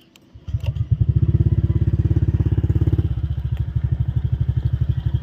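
A motorcycle with an aftermarket Namban exhaust pipe starts up and idles close by, its exhaust giving a deep, rapid, even burble that stays loud and steady.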